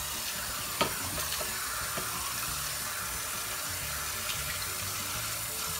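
White rice being washed by hand in water at a kitchen sink, a continuous wet swishing and trickling with a few small clicks and splashes, steady and close with no talking.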